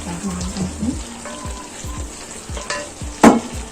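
Chicken liver and potato pieces frying in a pan, a steady close sizzle with repeated scraping stirs and a sharper splattering burst near the end; no talking.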